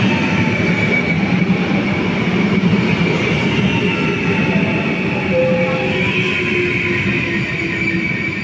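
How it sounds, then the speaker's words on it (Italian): A train pulls into a platform at Padova railway station with a steady, loud rumble of wheels and rolling stock and a faint high squeal, continuous throughout with no talk. "Treno in arrivo al binario 9."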